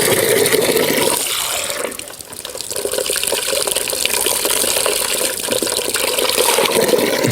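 Water from a farm's solar-pumped water system gushes out in a loud, close, continuous splashing flow that dips briefly before surging back strongly.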